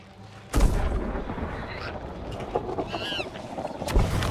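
A ship's cannon fires in the video game Sea of Thieves: a sudden heavy boom bursts out, followed by rumbling wash and sea noise, then another deep thud near the end.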